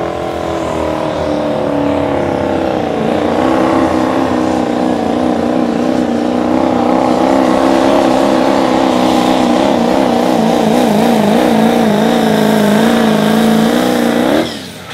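A diesel Chevrolet pickup with a 6.6 liter Duramax V8 roars at an outlaw truck pull. The engine holds a loud, sustained drone through the whole run, its pitch wavering and climbing before cutting off abruptly at the end.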